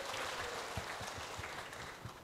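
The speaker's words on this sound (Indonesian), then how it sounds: "Oke, tepuk tangan buat Anda semuanya." Faint audience applause in a seminar hall, a steady patter of clapping lasting a couple of seconds without voices.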